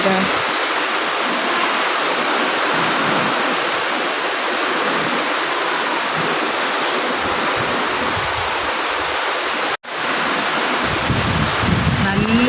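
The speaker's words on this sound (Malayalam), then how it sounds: "നല്ല മഴയും കാറ്റായി." Heavy rain pours steadily with gusting wind, a dense continuous roar that briefly cuts out for an instant before resuming.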